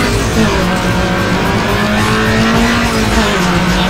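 A race car engine in Need For Speed Underground Rivals during a max spec trail race: a continuous, loud, buzzing engine note climbs and shifts in pitch, with possible tire squeal, and no talking.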